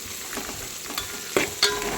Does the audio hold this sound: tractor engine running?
no